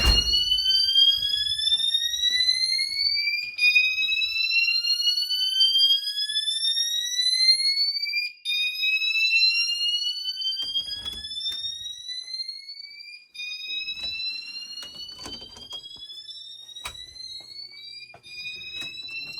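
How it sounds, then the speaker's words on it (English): A building fire alarm system sounds during a test with repeated rising electronic sweeps, loud and continuous, each whoop climbing in pitch before restarting, with faint clicks underneath. "We can see our garage fire alarm monitor module has activated."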